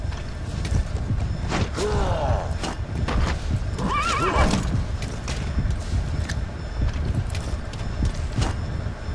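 A horse whinnies twice amid a steady clatter of hooves in Metal Gear Solid V: The Phantom Pain, with game background noise running throughout.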